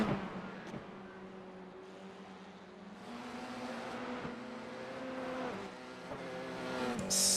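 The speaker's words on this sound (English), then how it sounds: "It's just so much full throttle around Bathurst in the F4" Formula 4 race car at full throttle around the Mount Panorama circuit at Bathurst in a VR racing game, its steady engine drone holding high and loud throughout with brief shifts in pitch, no voices.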